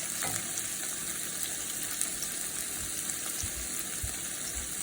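Tomatoes fry in a pan with garam masala, giving a steady, close sizzle and crackle with faint stirring that holds evenly throughout, with no voices.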